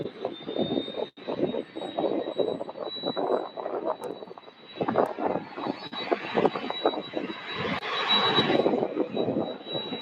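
A UPS Boeing 767 cargo jet at SDF airport gives a steady, moderately loud engine roar with a thin high whine, rising somewhat toward the end, with no talk over it.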